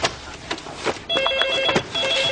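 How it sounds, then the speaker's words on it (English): A telephone rings in a police station in two bursts of electronic trilling, fairly loud and close, with a short gap between them and no talk over the rings. "Oh, the phone."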